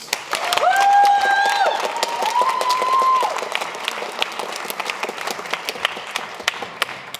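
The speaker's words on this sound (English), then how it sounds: "Let's give them another round of applause" An audience at a children's choir concert claps loudly and steadily, with a brief whistle early on, then the applause thins out into scattered claps.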